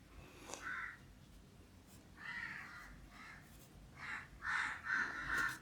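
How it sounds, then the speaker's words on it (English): Crows caw from trees around a house in the morning, a handful of rough, repeated calls at moderate distance that grow louder and closer together toward the end, over faint background noise. "morning time you can hear a noise of lots of birds, especially crows."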